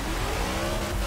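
A Mercury Coupe in Forza Motorsport 6, built as an all-wheel-drive drift car, revs its engine in a brief, continuous mid-pitched drone that holds steady and loud without any voice over it.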